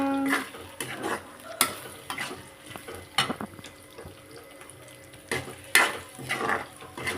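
A spoon stirs eggs into curry frying in a pan. The scraping comes in irregular strokes, with soft sizzling underneath and occasional clinks of utensil against metal. No one speaks.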